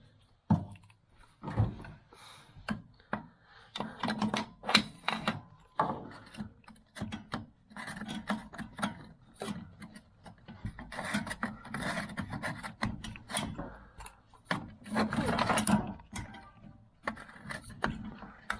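Wrench undoing a nut on the flow pipe of a Vaillant EcoTec boiler, giving irregular close metallic ratcheting clicks, scrapes and rubbing in scattered short bursts, fairly quiet.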